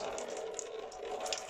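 Lukewarm water pours steadily from a small bottle over hair at a sink, a soft continuous splashing trickle, close and alone.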